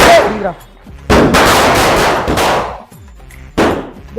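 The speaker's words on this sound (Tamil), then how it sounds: "லேட்டு பட்டாசு லேட்டா வெடிக்குதுடா" Loud, sharp Diwali firecracker bangs burst several times in quick succession, close by, with a brief lull between the blasts and a final crack.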